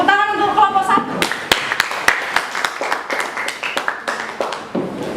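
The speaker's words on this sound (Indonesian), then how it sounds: "Tepuk tangan untuk kelompok 1." A classroom of students claps for a presenting group in a chemistry lesson, scattered sharp hand claps rising into a loose burst of applause after a brief stretch of speaking.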